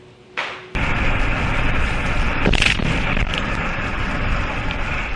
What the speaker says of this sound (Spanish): Son las impactantes imágenes del instante de la explosión del autobús